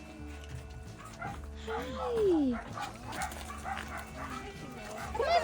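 Dogs rescued from high-kill shelters in California yip and whimper in a short, rising cry amid scattered barks and soft background noise, with a person briefly speaking.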